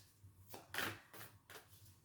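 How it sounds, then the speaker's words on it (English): Tarot cards being shuffled by hand, several soft riffling bursts in quick succession, quiet and close with no talk. "And while I'm shuffling"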